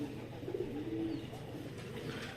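Soft, low cooing from pigeons kept on a rooftop, a few quiet murmuring coos against faint background noise.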